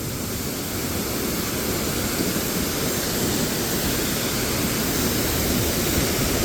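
Thoseghar waterfall near Satara thunders down in full flow, a loud, constant broadband roar that fills the scene without a break.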